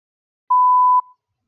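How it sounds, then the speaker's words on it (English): A single clean electronic beep sounds as a TOEFL test prompt, loud and steady for about half a second before cutting off into silence. "You may begin to prepare your response after the beep."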